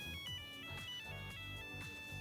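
A phone rings with an incoming call, its electronic ringtone repeating in a steady melodic pattern for the whole stretch, clear and continuous with no talking.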